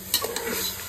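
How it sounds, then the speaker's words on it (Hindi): Chicken being fried and stirred in a pan over a wood-fired stove, a short close sizzle with a spoon scraping the pan, no talk. "और भाई चिकन भून रहे हैं"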